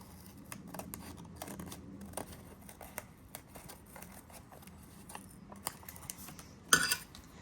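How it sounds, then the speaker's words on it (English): Scissors snip through pleated paper while shaping a mixed-media journal pocket, a series of small crisp cuts close by with a louder burst of snipping near the end. "So let's just cut that in the shape."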